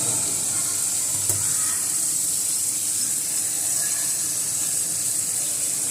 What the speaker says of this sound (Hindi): अब इसके अंदर ये जो प्याज का चूरा किया हुआ था हमने वो इसके अंदर डाल देंगे